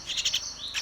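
Myna birds chirp in a quick string of bright, high notes, fairly faint and brief, with a short pause before a final pair of calls.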